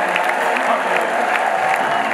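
Church congregation at a pastors' conference in Ethiopia applauding, dense and loud clapping from a crowd that carries on steadily throughout.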